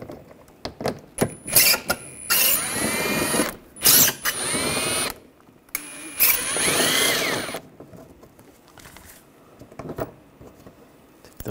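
Power tool with an 8 millimeter socket backing screws out of a 2013-2016 Dodge Dart front bumper, several close, whirring bursts of varying length separated by brief pauses and small clicks.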